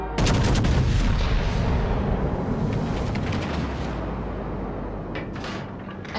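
Naval guns firing in the World of Warships: Legends game, a loud opening salvo of blasts rolling into a sustained dense roar of gunfire and explosions that slowly fades, with a few sharper reports near the end.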